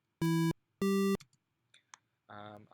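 Sylenth1 8-bit style synth using trisaw oscillators, with a second oscillator an octave below and no arpeggiator: two short, buzzy square-like notes, a tiny blip, then a softer sustained tone at the end.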